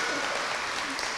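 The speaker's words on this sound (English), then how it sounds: "clap for that" A short burst of audience applause at a graduation ceremony, dense steady clapping with voices mixed in.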